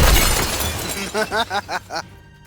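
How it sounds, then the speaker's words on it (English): A glass bottle hurled to the ground shatters with a loud crash as a Shatter spell effect in a fantasy tabletop adventure game, the burst followed by a string of ringing, tinkling glass fragments that fade out. "He grabs the bottle, he throws it as he casts the spell Shatter. As it lands to the ground, it explodes, causing the shatter effect."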